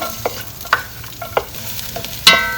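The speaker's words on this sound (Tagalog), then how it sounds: "ang ating mantika, lagay natin ang ating bawang" Garlic dropped into hot cooking oil in a pan, giving soft sizzling with a few sharp stirring scrapes and clinks spaced through the short stretch, one louder clatter near the end.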